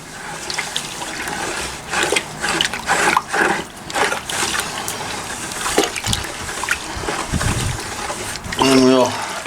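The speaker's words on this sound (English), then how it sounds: "we are going to give this big pile of dirt one more stirring" A big pile of dirt sloshes and churns in water as it is stirred to pull out clay, with uneven splashing surges under a voice talking throughout and a short gurgle near the end.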